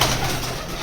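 Pet pigeons, a white and a grey one, scuffle and coo close by in a brief, busy burst of soft throaty calls and rustling.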